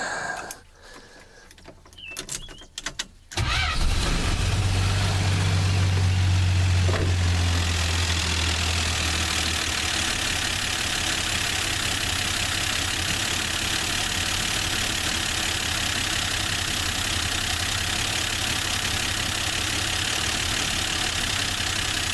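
A long-neglected Plymouth Valiant sits quietly with faint handling sounds, then its engine catches abruptly and settles into a steady, rough idle that continues loud and unbroken to the end.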